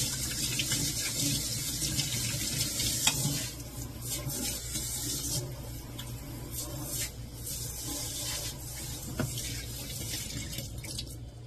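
Stove coil parts washed by hand in a kitchen sink under running tap water, a steady loud rush of water with occasional clinks and splashes throughout.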